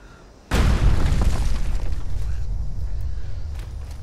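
A single heavy blast goes off from near silence in Fallout 76, a loud boom with a long rumbling tail, likely a shotgun firing at an enemy. It trails off into a low roar and a few faint clicks.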